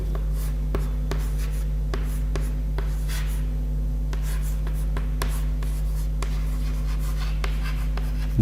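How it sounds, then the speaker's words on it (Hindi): Marker or chalk writing on a board during a Hindi-language history lecture, a steady run of short scratchy strokes and taps over a constant low room hum, close and fairly clear with no talking. "तो यहां पे लिख दे रहा हूं लाडली बेगम"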